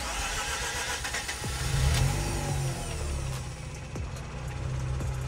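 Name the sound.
Mazda RX8 rotary engine struggling to start when hot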